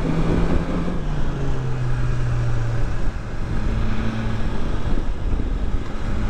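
A 2020 BMW S1000XR motorcycle riding on a road strewn with gravel and mud gives a steady engine drone with low rumbling tones, buffeted by constant wind noise across the whole stretch.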